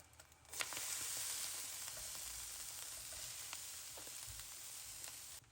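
Vegetables and mince frying over high heat in a pan for a Bolognese, giving a steady loud hiss of sizzling with a few faint utensil scrapes, continuous and close, no talking.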